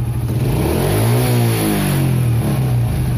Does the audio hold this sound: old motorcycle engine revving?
yes